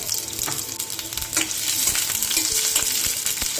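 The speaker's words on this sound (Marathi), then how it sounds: "कढई घेतली त्याच्यामध्ये तेल घालायचंय थोडं एक कांदा घेतले दोन मी परतून घेणार आहोत" Onions sizzle and crackle steadily in hot oil in a kadhai, a loud, continuous frying hiss with occasional stirring clinks.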